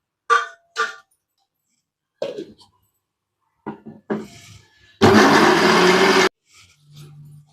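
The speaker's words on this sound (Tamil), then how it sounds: "சுரைக்காய் அரைச்சி எடுத்துக்கலாம்." A mixer grinder grinding bottle gourd runs in one loud burst of just over a second, after a few scattered kitchen knocks and clicks in near silence.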